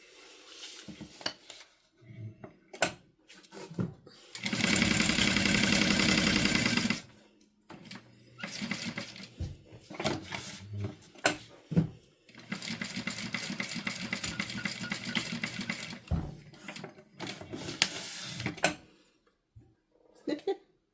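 A sewing machine runs in two long bursts of steady mechanical whirring while stitching a quarter-inch seam with backstitching, separated by clicks, fabric handling and intermittent clatter.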